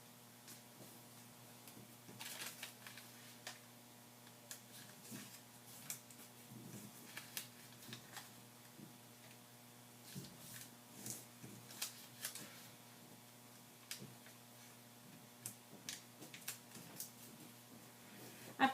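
Origami paper is flipped over and creased into the center with faint crinkles, soft taps and light rustles scattered irregularly, close-up and quiet over a faint steady hum.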